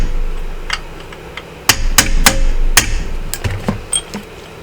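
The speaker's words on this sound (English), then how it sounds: "Get you a good flat punch, a little small hammer, catch it right on the sides" A small hammer drives a flat punch against a part on a Suzuki GSF600 Bandit motorcycle, giving several loud, close metallic strikes at uneven intervals followed by lighter taps and clinks.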